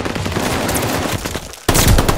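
Rapid automatic gunfire in a video game firefight at a hard point, dense and loud throughout, breaking into a sharper, heavier burst near the end.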